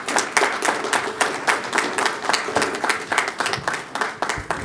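Audience applause for Elder McKinley Johnson at an Albany County Legislature gathering, a steady run of many hands clapping that fills the room, close and fairly loud, continuing without a break.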